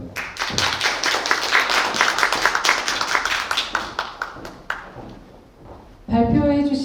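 An audience claps together at a Korean youth policy Ignite talk event in Jinju, a steady dense round of applause that fades before a voice speaks over a microphone.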